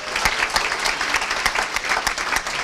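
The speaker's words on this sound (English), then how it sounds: "let's just give one more round of applause for Jones Family Farms and Winery for that wine tonight" Hearty audience applause at an annual meeting, dense and continuous with a few sharp, close claps standing out, and no talk over it.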